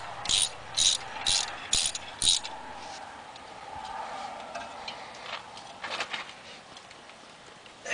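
A ratchet tightening a bolt on the front brakes of a 2008 Chevrolet Silverado, five quick clicking bursts in a steady rhythm followed by softer scattered clicks, close and fairly quiet.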